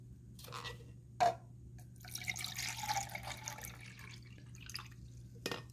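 Water is poured out of an old 5-cup coffee pot to be measured: a faint, splashy trickle with a few scattered drips in a quiet room.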